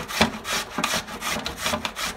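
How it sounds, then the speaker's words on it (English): Potatoes grated by hand on a grater for latkes, a series of rough rasping strokes in a regular rhythm, close and fairly quiet, heard alone. "I'm grating the potatoes."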